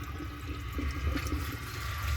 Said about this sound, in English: I'm going to add some water to the bowl now.